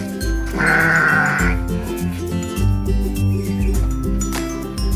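Young sheep at a sheep contest in Pleret, Bantul, bleat loudly and repeatedly at close range. The calls overlap in a noisy outdoor crowd.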